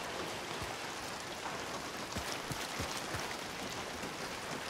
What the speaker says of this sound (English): And it's still light rain,